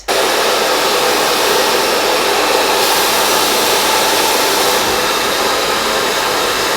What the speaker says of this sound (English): I'm going to be blow drying, moving the brush opposite like so.